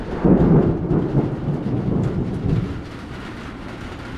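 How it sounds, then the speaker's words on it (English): Thunder rumbles low and steady for several seconds during falling rain, a broad, heavy roll that swells early and gradually eases off, with nobody speaking. "There's the thunder."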